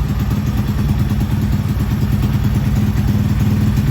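A Honda Z50 Mini Trail drag bike with a 140cc engine runs on a dyno, its loud, steady mechanical roar and clatter close up and continuous throughout, with no talking.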